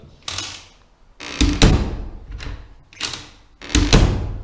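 Newly hung bedroom door swinging on its hinges, with repeated creaks and wooden thumps in a close room, four or five bursts of movement spaced about a second apart.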